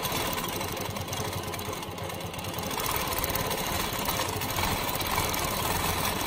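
A sewing machine hums and chatters continuously at a steady pace during free-motion quilting of pebble shapes, close and fairly loud with no pauses.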